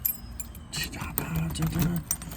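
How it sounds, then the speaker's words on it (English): A bunch of keys jangles in a hand near a car door, with bursts of bright metallic clinking and rattling that come and go, while a person talks quietly alongside. "So I'll say I got the keys."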